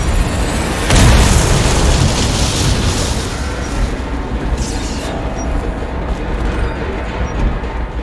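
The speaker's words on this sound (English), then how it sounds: "You should stay away from the door because of the explosion" A loud boom erupts about a second in from the Dishonored game, then a rumbling, debris-filled roar trails off steadily over the following seconds.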